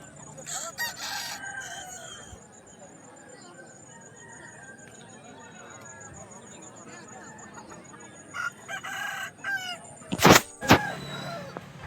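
Roosters from Tamil Nadu at a fowl market crow and cluck against steady market chatter and background noise, with louder bursts of calling near the end.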